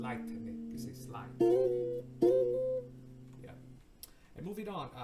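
A plucked guitar note slides upward in pitch twice using the slide technique, ringing over a low sustained chord, with a voice speaking briefly at the end.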